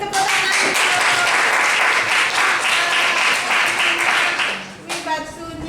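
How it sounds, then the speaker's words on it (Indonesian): Classroom applause after a student presents a batik-motif design, a dense steady clapping from a group that fades near the end, with voices starting up underneath. "beri tepuk tangan."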